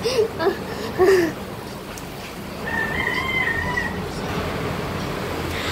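Chickens cluck and squawk briefly near the start during Typhoon Pepito, then a distant rooster-like call rises over steady background noise.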